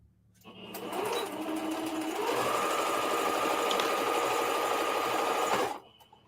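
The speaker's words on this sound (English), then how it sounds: "So I'm going to sew this down, y'all." A sewing machine stitches steadily for about five seconds while sewing jeans into a skirt, whirring close and loud before stopping abruptly.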